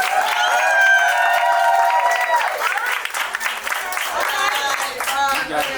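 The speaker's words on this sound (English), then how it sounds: "Give it up for him." A poetry show audience applauds and cheers loudly after a performer's score is announced, with sustained clapping, whoops and raised voices throughout.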